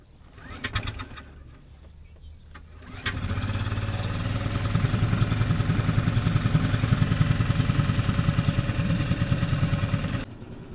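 Boat outboard motor with the choke on starts after a few seconds of quiet and then runs in a loud, steady, close drone for several seconds before cutting off, with birds audible at the start.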